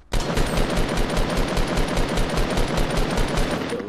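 Automatic gunfire in the Fortnite video game, a rapid, loud, evenly spaced burst of shots filling the whole stretch without pause.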